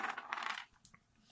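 Wooden dice from the Stone Age board game rattle and tumble briefly onto a table, a dense clatter that settles into a few faint clicks, quiet and close.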